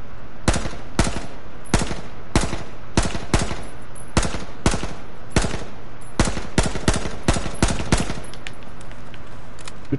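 Gunshots in the survival shooter game H1Z1 crack out loudly and sharply, firing in quick irregular bursts and single shots throughout, close and with no talking over them.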